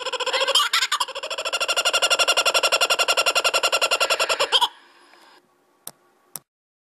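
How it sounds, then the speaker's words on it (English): Kookaburras give a loud, rapid cackling laugh, a fast rhythmic run of harsh notes lasting several seconds that stops abruptly and leaves two brief faint clicks. "The birds just laugh at Tina."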